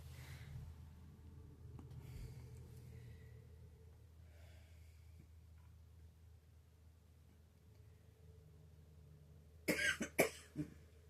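A short burst of several harsh coughs near the end, loud and close, after a long stretch of quiet room tone.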